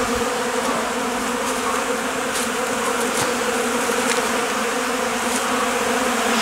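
Honeybees buzz at their hive in February in a dense, steady, unbroken drone that stays close and loud throughout, with no voices.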